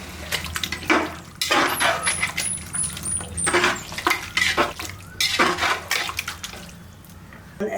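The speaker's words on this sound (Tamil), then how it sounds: "ஒரு 300 ml அளவுக்கு தயிர் எடுத்து வச்சுருக்கேன், இதையும் இதில் ஊற்றிடலாம்." Yogurt poured and stirred into raw mutton for Ambur biryani makes wet squelching, sloshing sounds, punctuated by several clinks of a spoon or bowl against a metal pot, close and irregular.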